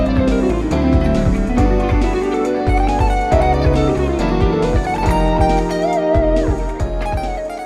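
A guitar strums a chord progression beneath a lead guitar solo from a song, full and loud with steady rhythmic chords and melodic bends on top, no voices.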